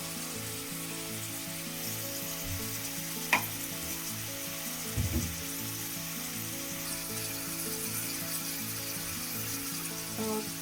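Vegetables frying with spices in a pan for vermicelli upma, a steady quiet sizzle with a couple of stirring scrapes, under a faint repeating background hum and no talk.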